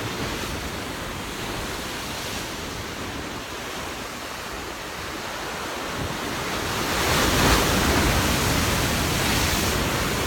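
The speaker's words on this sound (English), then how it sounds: "the waves making their appearance, everything alive." Ocean surf rolls onto the shore as a steady wash of broadband noise with wind, swelling louder as a bigger wave breaks near the end.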